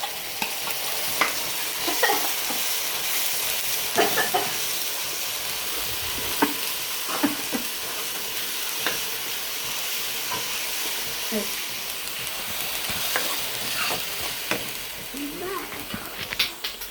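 Onion paste frying and sizzling steadily in a pan for misal pav, with a spoon scraping and stirring through it in bursts, up close and fairly loud throughout.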